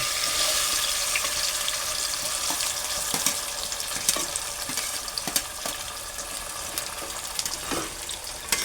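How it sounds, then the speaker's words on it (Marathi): Onion frying in a pan for a sprouted horse gram curry, a steady hiss of sizzling oil with occasional stirring scrapes and clicks, close and continuous with no talk. "आता आपण कांदा टाकतो कांदा टाकतो"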